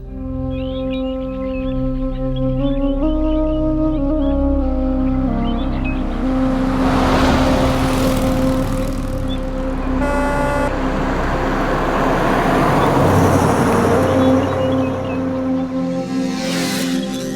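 Road traffic on a rainforest highway to Valparai, with steady engine noise from passing cars and vehicles, a horn toot, and rising and fading pass-bys throughout.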